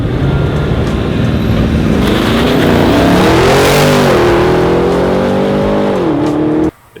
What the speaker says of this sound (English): we got a full titanium exhaust for the Audi RSQ8